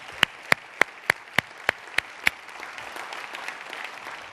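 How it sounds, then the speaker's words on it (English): Eight crisp, evenly spaced claps ring out nearby at a symposium closing session, then give way to a softer wash of audience applause. "So let's have a round of applause from them as well."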